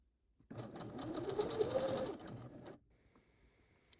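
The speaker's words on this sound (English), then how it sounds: "What I like to do is practice on a piece of scrap with before I actually sew anything to make sure that I got the right tension." A home sewing machine stitches a test run on scrap fabric to check the thread tension, a steady whirring burst of about two seconds that stops abruptly, followed by quiet room tone.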